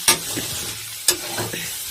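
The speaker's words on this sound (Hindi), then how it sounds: "देखिए पालक डाल करके मसूर के दाल में तड़का लगाए हैं, लहसुन मिर्चा जीरा से दाल सागा बनाए हैं।" Lentil dal with spinach sizzling as a tempering of garlic, chilli and cumin goes in, with a steady crackling fry broken by sharp scraping stirs about once a second, close and clear.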